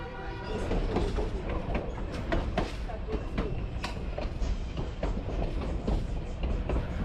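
A passenger train pulls out of Puno, Peru, bound for Cusco along Lake Titicaca, its wheels clacking rhythmically over the rails in a loud, continuous rumble with faint background chatter.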